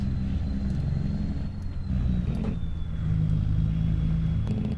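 A truck engine in Farming Simulator 25 rumbles low and steady with a thudding, pulsing note as the Jake brake holds, heard from the cab, with a faint whine above.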